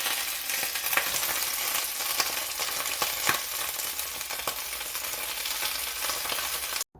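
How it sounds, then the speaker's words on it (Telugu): Washed spinach sizzles hard in hot oil in a kadai, a dense steady crackle with a few sharper pops, close and loud, ending abruptly. "ఆయిల్ వేడెక్కినాక ఈ కడిగి ఉంచుకున్న పాలకూరని బాండ్లీలో వేసి దోరగా వేయించుకుంటాం."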